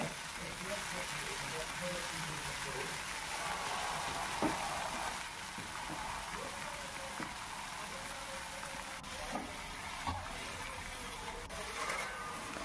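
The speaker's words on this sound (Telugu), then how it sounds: "ఇప్పుడైతే మనం శుభ్రం చేసుకున్న కొత్తిమీరని బాగా వేయించుకోవాలి నూనెలో." Coriander leaves frying in hot oil, a steady soft sizzle running throughout with faint stirring clicks, close and fairly even in level.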